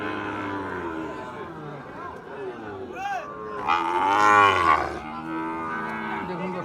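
Sahiwal cattle low and moo at a busy livestock market, one drawn-out, loud call standing out near the middle, while an auctioneer-style voice talks over the crowd throughout.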